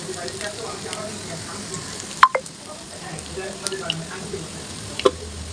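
Onion fritters (piyaju) fry in oil with a quiet continuous sizzle, broken by a few sharp clinks and taps from a utensil.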